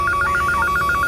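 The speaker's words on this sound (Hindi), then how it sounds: "अभी तुम घर के लैंडलाइन पे फोन करो और जैसे ही कुलदीप उठाए फोन काट देना।" A telephone rings with a rapid, warbling electronic trill, close and steady, pulsing evenly throughout.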